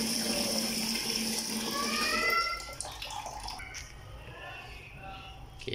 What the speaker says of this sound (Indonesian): Kita rendamkan outdoor ni dalam air.